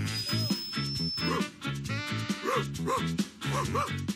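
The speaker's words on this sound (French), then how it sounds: "Vous pourriez arrêter de faire aboyer Princesse." A small dog barks and yips repeatedly in quick bursts, close by, with a steady musical backdrop underneath.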